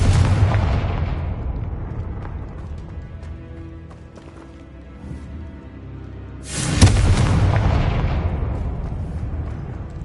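A Confringo spell explosion in Hogwarts Legacy sounds as a heavy boom that opens the clip and rumbles away. A second loud blast follows about two-thirds through, with debris-like crackle trailing off.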